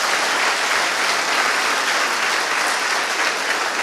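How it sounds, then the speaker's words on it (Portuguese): A church congregation applauds loudly, a dense and steady wash of clapping that holds evenly throughout with no talking. "Vamos aplaudir Jesus bem forte"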